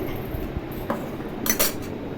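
Masoor (red lentil) dal being stirred in a cooking pot, a spoon scraping and clinking faintly against the metal in a few soft strokes over a low background hum.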